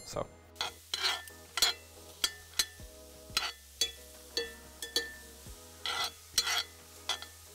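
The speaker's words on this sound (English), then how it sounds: "I'm going to be uh, moving around the onions while we do this." Spoons scraping and stirring onions in a pan, rhythmic scrapes and clinks about twice a second over a faint sizzle.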